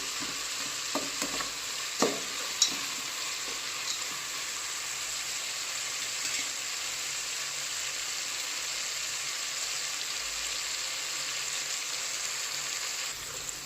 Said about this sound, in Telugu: సో ఇప్పుడు మనకి ఆనియన్స్ కొంచెం బ్రౌన్ కలర్ వచ్చేంత వరకు ఫ్రై చేసుకుందాము.